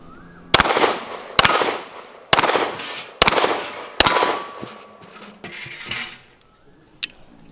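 A Colt .38 Super 1911 pistol fires five sharp, loud shots in an even rhythm about a second apart. Each shot leaves a short ringing tail, and a lighter metallic clink follows near the end.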